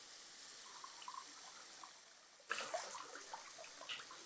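Water poured into a pot of soaked seeraga samba rice, with a faint trickle at first, then a louder, splashing stream from the midpoint on, with no voices.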